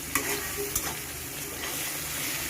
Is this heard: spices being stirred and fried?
yes